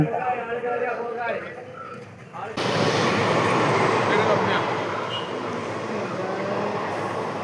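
A train rumbles past close by at a closed railway level crossing with a loud, steady roar of wheels on track after a quieter stretch of background voices and traffic.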